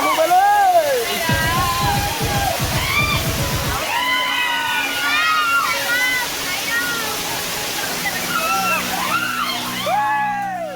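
A waterfall at Rayipalem in Alluri district, near Hukumpeta, roars with a steady broad rush of falling water while people talk loudly over it throughout.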